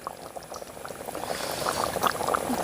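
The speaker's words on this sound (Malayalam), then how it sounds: "ആദ്യം നന്നായി തിളക്കട്ടെ." A traditional Kerala fried-style fish curry with fish pieces bubbles in a pot, a steady crackling simmer of small popping bubbles that grows slightly louder and busier toward the end, no talk.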